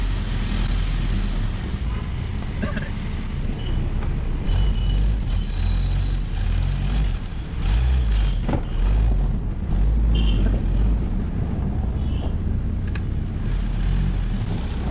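A Jeep on a road test drive rumbles steadily with low engine and road noise heard from inside, with a few faint rattles and clunks over the drone.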